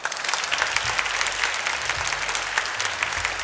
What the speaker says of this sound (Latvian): Lūdzu, aplausi.